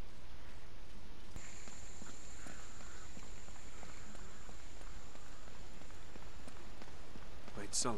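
Steady wash of water or rain ambience in the Uncharted video game, a continuous soft hiss with scattered faint drips and taps throughout, heard alone without talk.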